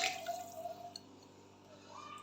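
Hot water is poured into a pot of white mash dal with spices, a brief soft splashing trickle at the start that fades into a quiet kitchen.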